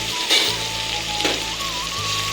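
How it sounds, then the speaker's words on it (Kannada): Ground spice paste hitting hot tempering oil with tomato, a loud continuous sizzle and crackle with brief stirring scrapes, close and alone. "ನಾನಿವಾಗ ಇದಕ್ಕೆ ಮೊದಲೇ ರುಬ್ಬಿಟ್ಕೊಂಡಿರುವಂಥ ಒಗ್ಗರಣೆ ಮಿಶ್ರಣನ ಹಾಕೊಳ್ತಾ ಇದ್ದೀನಿ"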